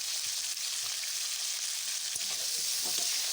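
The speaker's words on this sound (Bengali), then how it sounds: "এর মধ্যে সামান্য একটু হলুদ গুঁড়ো আর সামান্য একটু লবণ দিয়ে ফুলকপিটা ভেজে নেব" Cauliflower frying in oil with turmeric and salt for a fish curry: a bright, continuous hiss of sizzling, close and steady, with a few faint clicks of stirring and no voices.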